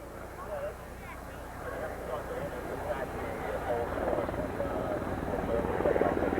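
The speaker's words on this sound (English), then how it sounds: "The aircraft is starting to come in." A military helicopter approaches at an air show for an air assault rappel demonstration, its steady rotor drone growing slightly louder under a voice on a loudspeaker.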